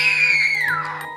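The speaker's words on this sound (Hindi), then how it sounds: "अचानक उसके कान के एकदम पास में ही कोई बहुत जोर से चीखी।" A woman's long, loud scream close by, sliding downward in pitch over about a second and fading at the end, over a steady low hum, like a horror-story effect.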